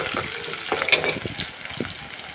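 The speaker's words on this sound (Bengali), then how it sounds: "পেঁয়াজ কুচি আর রসুন কুচিটা দিয়ে দিচ্ছি" Chopped onion and garlic hit hot oil in a pan and sizzle steadily, close and fairly loud, with scraping stirs and small crackles, no talking over it.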